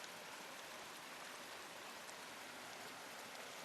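Steady rain falling on a rainy day, a dense, even hiss that stays constant and close throughout with no voices or other sounds.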